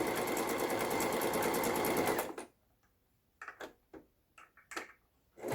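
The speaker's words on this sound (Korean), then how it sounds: "지그재 바느질 정상적으로 아주 잘 박히고 있습니다." A Toyota 7150 sewing machine, newly repaired, stitches a zigzag seam in a loud, steady mechanical run that stops suddenly. Several short knocks and clicks follow in the quiet.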